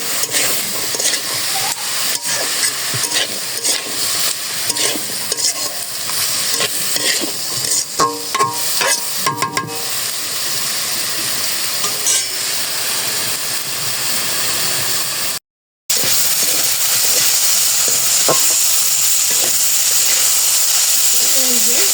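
Spices, including dry chilli powder and turmeric, sizzle and hiss as they are stir-fried in a pan, with steady scraping strokes of a spatula over continuous frying noise and a brief drop-out near the end.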